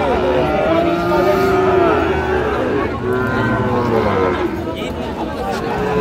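Sahiwal cattle lowing at a busy cattle market in Sirajganj, Bangladesh, with long drawn-out moos over a constant murmur of crowd noise.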